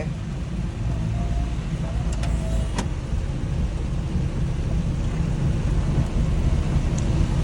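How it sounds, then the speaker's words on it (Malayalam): Dense rain drumming on a moving car in third gear around Calicut, over a low engine and road rumble, with a couple of faint clicks. "അപ്പം നമ്മൾ നല്ല മഴയാണ്"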